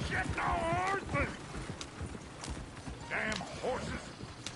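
Horses clip-clopping in Red Dead Redemption 2, a coach scene with hooves drumming steadily under shouted talk and bursts of voices.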